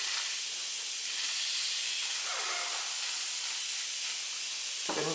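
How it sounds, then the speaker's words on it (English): Aerosol brake cleaner hisses in one steady, continuous blast around the copper crush washer and drain plug area of a 2021 KTM 690 Enduro R during an oil change, ending with a brief clatter. "Give it a shot of brake clean."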